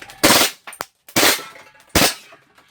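A full-auto Glock 23 gas gun fires from a 50-round magazine in three sharp, loud bursts separated by brief pauses, each a dense rattle of rapid shots, with no talk.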